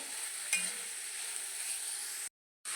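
Crushed spices fry steadily in a pan with a continuous bright sizzle, close and even, a brief stir near the start, then a short silent gap before the frying resumes.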